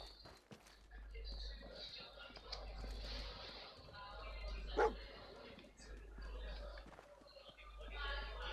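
The dog in Fallout 4 barks and yips amid footsteps and ambient game noise, one sharp bark standing out midway, with a voice talking over the scene.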